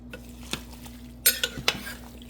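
Beef suet renders down into tallow in a pot, giving a low steady simmer punctuated by a few sharp clinks and scrapes of a utensil, close and brief with no talk.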